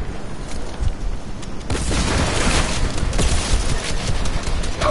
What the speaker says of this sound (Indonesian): kena aku tembak guna RPG